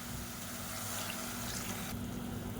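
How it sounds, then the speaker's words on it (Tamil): Water is poured into a cooking pan of softened tomatoes while making a side dish, a steady, close, continuous splashing stream at low volume. "இந்த ஸ்டேஜில் தண்ணி சேர்த்துக்கலாம்."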